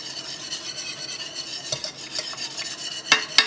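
A small batch of elderberry syrup with sugar is stirred in a pot at a rolling boil, with a soft bubbling hiss under steady spoon scraping and a few sharp metallic clinks of the utensil near the end.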